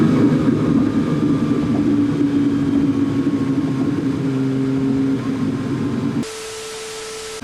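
Downdraft Lamborghini Countach 25th anniversary, a carbureted V12 sports car, runs with a loud, steady engine drone and a rising rev. It cuts abruptly to a quieter, hissing tone near the end, with no talk.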